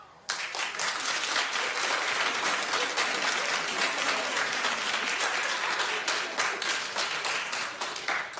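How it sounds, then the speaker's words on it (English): A studio audience on a talk show breaks into loud, sustained applause, dense clapping close up that holds steady for several seconds before tapering slightly. "Clap if you don't."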